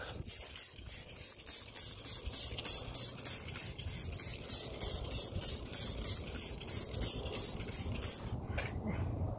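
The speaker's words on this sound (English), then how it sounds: "I'm going to spray it." A trigger spray bottle sprays cleaner onto a car wheel rim, pumped rapidly in about twenty quick even hissing squirts in a steady rhythm, close by, then it stops.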